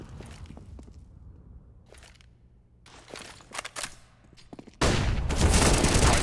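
Gunfire from a Counter-Strike esports match on the map Mirage: several sharp bursts and single shots spaced irregularly, ending in a sustained loud volley, with little talk over it.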